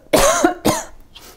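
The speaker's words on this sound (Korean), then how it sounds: "이렇게 콜록콜록거리면서 음식을 만든다는 걸." Two harsh coughs in quick succession, close by while cooking seafood jjamppong stew, followed by a faint breathy exhale; no talking.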